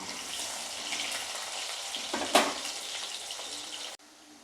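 Potato pieces fry in hot oil with salt in a kitchen pan, making a continuous moderate sizzle with a short louder crackle near the middle before the sound drops away at the end.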